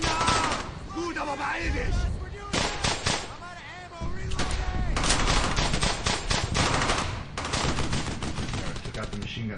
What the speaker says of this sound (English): Right, so I brought my machine gun team forward.